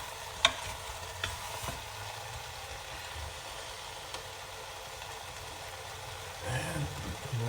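Beef curry browning in an Instant Pot, a faint, steady sizzle with a few soft clicks of stirring and a brief louder scrape toward the end, heard close and quiet.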